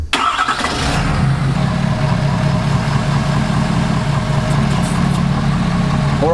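A stock Ford F250 pickup, fitted with 24x14 wheels and 35-inch tires, starts up and settles into a steady, rumbling idle close by while the wheels are turned, with a brief clatter at the start and no talking.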